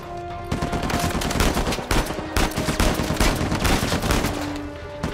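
Rapid gunfire from the Uncharted video game crackles almost nonstop, dense overlapping shots and automatic bursts with brief gaps, loud and close throughout.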